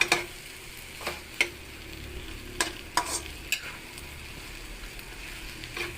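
Bitter gourd and egg being stirred in a frying pan, with a soft steady sizzle under a few sharp scraping clinks of the utensil against the pan, spaced irregularly and fairly close.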